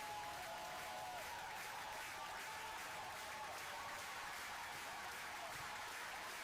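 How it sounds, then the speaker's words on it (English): An audience claps steadily and evenly throughout, a dense wash of applause heard faintly, as if from a distance. "let's have a round of applause"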